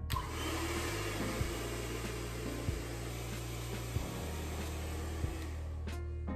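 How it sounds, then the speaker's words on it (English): A hair dryer blows on bleached platinum blonde hair, a steady whooshing drone whose pitch dips and shifts every second or so as the airflow is moved around. "let's blow dry it and see how it turns out"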